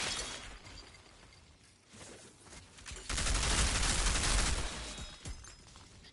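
Sustained bursts of gunfire in the video game Outriders crackle loudly, building into a dense, rapid volley near the middle before easing off, with no talk over it.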